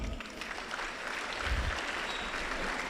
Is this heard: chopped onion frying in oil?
no